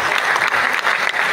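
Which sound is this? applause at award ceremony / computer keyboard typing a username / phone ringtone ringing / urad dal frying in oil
applause at award ceremony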